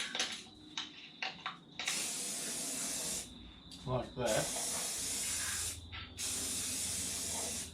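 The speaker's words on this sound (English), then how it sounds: "I've got to go around the other side to spray away from the edge here." An aerosol can hisses in several long bursts while spraying a motorhome bonnet, separated by short pauses with handling noises; someone says a few brief words early on.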